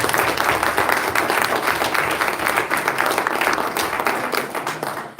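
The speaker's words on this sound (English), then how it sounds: "Let's give one more round of applause to Mr." An audience at a West Virginia State Senate District 16 debate applauds in a dense, steady burst of many hands clapping, sustained and fairly loud throughout.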